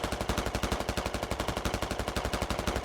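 Rapid automatic gunfire from a BRDM armoured vehicle in a military video game, a loud, steady stream of closely spaced shots that continues without pause throughout.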